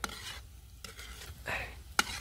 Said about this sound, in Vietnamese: Rồi, chiên theo từng mẻ thôi. Giờ sẽ đảo đều lên nha.